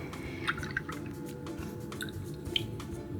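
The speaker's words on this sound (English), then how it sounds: "We're going to first pour in the buttermilk." Buttermilk poured for a chicken brine gives soft, thick glugging and squishy drips, a few brighter plops scattered over a continuous low liquid murmur, close and quiet.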